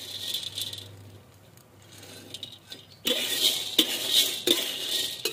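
Stirring fish bait ingredients as they dry-roast in a pan, with scraping and metallic rattling strokes that grow louder and more frequent in the second half, close by and without speech.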